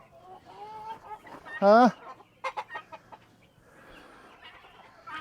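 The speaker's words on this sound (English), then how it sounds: "all the chickens were going kind of crazy" Chickens cluck and squawk excitedly close by, with one loud, sharp rising squawk followed by a quick run of clucks, while a person's voice sounds briefly.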